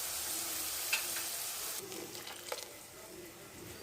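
Magur fish fries in hot oil in a pan, a steady close hiss of sizzling with a few soft clinks and stirring noises partway through.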